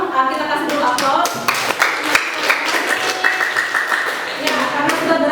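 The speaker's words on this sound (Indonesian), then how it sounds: "kita kasih dulu aplaus" Classroom applause breaking out in a steady patter of many hands clapping, near and fairly loud, with voices talking over it.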